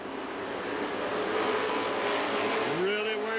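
A field of Econo Bomber race cars at Dixie Speedway in Woodstock, Georgia roars steadily past the start-finish line. Engine noise stays continuous and loud, a pitch sweep rises near the end, and an announcer talks over it.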